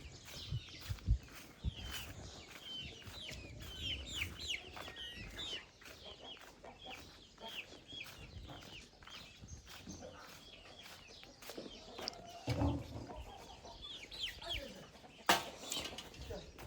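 Several chickens cluck and chirp in a busy farmyard, with brief wing flaps and footsteps, mostly faint and close, and scattered sharp knocks.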